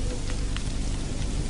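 Steady rain falling at night, a dense continuous hiss of drops on surfaces, close and even throughout with no voices.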